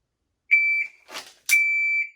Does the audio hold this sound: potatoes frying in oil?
no